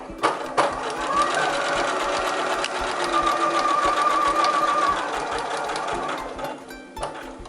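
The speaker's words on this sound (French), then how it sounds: "Je vais maintenant venir au point droit sur mon marquage." A sewing machine runs a straight stitch along a marked line on a homemade fabric face mask, whirring steadily up close for several seconds, with brief starts and stops at either end.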